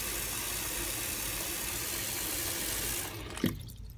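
Tap water runs steadily into a pot of black beans set to soak, a loud constant rushing close by that cuts off near the end, followed by a brief knock.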